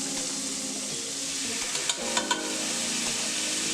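Minced garlic sizzles in a pan with a steady close hiss, broken by a few soft clinks and stirring sounds near the middle, no voices.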